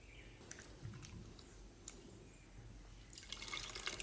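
Tamarind juice poured into a bowl while making Ugadi pachadi, a soft, faint trickle and drip of liquid that builds slightly toward the end, with no talking.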